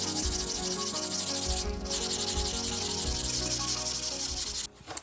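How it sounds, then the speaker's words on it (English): Steady abrasive rubbing of sandpaper across a drywall accent wall, loud and close, in continuous back-and-forth strokes with a brief pause near the end. "I might not particularly enjoy sanding, but I will love it in the end"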